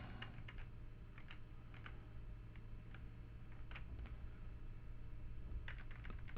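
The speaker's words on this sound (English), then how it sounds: "pressing V on the keyboard" Computer keyboard keys pressed in short scattered clicks, single taps and quick bursts, over a steady background hum during digital drawing work.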